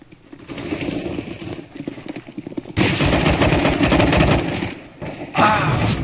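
Rapid gunfire in Counter-Strike: Global Offensive on the Mirage map, bursts of automatic weapon fire loud and close, with brief pauses between volleys.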